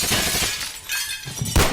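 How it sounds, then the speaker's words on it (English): Glass windows shattering under gunfire as an audiobook sound effect, loud crashing bursts of breaking glass with tinkling debris, ending in a sharp final impact. "dodging a storm of bullets as they shattered the glass windows"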